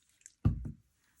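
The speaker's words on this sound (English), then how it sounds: "I'm just going to spray this with water" A spray bottle spritzes water onto an inked card background: one short, close, hissing burst lasting about a third of a second, with faint ticks before it and quiet afterward.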